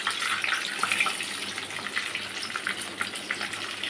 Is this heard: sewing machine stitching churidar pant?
no